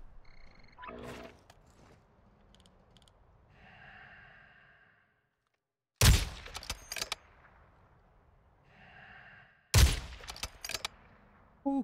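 Two loud bursts of gunfire from the video game DMZ crack out several seconds apart, with quieter rustling and breathy sounds between them.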